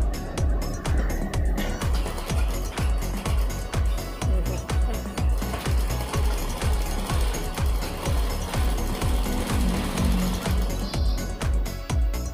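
Sewing machine stitching a double katori blouse, fast regular needle thumps in an even rhythm running continuously, close and fairly loud with no talk.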